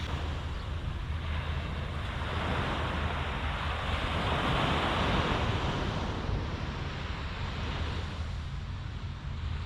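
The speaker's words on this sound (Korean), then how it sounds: "파도 소리와 바다 내음이 느껴지는 힐링의 장소입니다" Continuous surf rolling onto the East Sea shore at Gangneung Sunpo, a broad steady wash of waves with some wind rumble on the microphone, no voices.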